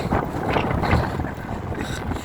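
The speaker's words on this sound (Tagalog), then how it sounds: "Lakas mo ng hangin." Strong wind buffets the microphone in a steady low roar with gusty swells, loud and close throughout.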